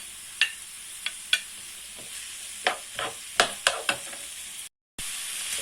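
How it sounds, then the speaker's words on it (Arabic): Small pieces of chicken breast frying in vegetable oil in a pan, a steady close sizzle broken by sharp clicks and scrapes of stirring, with a brief gap of silence near the end. "غادي نضيف هكا واحد 250 غرام ديال الصدر ديال الدجاج، هكا قطع صغيره"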